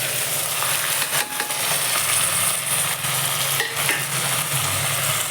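Tomatoes fried and stirred in a little oil in a pan, a steady close sizzle with occasional scraping strokes of the stirring utensil, no voices.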